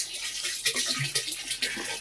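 Liquid cow-dung culture splashes and gurgles as it is poured into a water tank, a close, continuous pour with uneven sloshing bursts.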